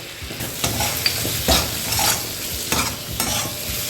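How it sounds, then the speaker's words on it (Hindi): Chopped medium tomato is stirred into a green peas tarka in a hot pan. Repeated scraping strokes sound over a steady background sizzle, with no voices. "हम डालेंगे एक मीडियम साइज के टमाटर, जिसे मैंने बारीक काट लिए और अच्छे से मिक्स करेंगे"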